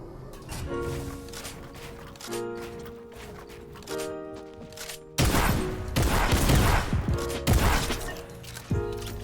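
Gunfire in the video game Fortnite: a rapid burst of loud, sharp shots lands in the second half over a steady tonal backdrop, with an earlier quieter stretch.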